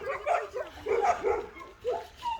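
Dogs, including one named Madmartigan, yip, whine and whimper in short, uneven bursts at close range, the cries rising and falling over a few seconds, with no voices.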